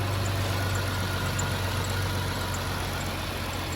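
A Dodge Hellcat engine idles steadily with a low, even rumble, close and moderately quiet, and a faint belt squeak may sit over the drone; no voices.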